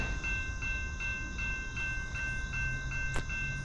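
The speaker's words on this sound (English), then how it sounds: "Fifth train of the morning, Labor Day" A CSX or NS freight train passes on a former Conrail line, with a steady rumble and rhythmic clicking of wheels over rail joints, fairly close.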